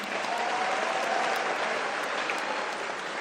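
Sustained, even applause from a crowd at a university closing ceremony, many hands clapping in a dense continuous wash at moderate level with no voices standing out.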